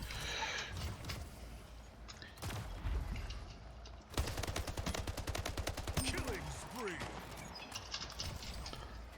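Assault rifle gunfire in the shooter game Splitgate rattles out in rapid bursts, with a long sustained run in the middle, while someone talks over the shooting.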